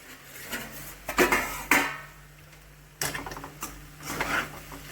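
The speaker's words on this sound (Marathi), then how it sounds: "आता आपण ताट काढणार आहोत भाजी बरोबर." Plates and steel utensils are taken out alongside cooked yellow potato curry in a home kitchen, a few sharp close clinks and clatters in two clusters, with quiet pauses between.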